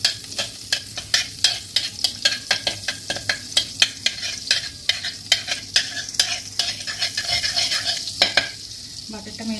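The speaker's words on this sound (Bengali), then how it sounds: "এবার এতে আমি কিছুটা বাটার দিয়ে দিলাম। বাটারটা একটু মেল্ট হতে দেবো।" Butter sizzles in a hot wok over a gas flame while making Mumbai-style pav bhaji, with steady close frying hiss punctuated by regular scraping strokes of a spoon stirring the pan.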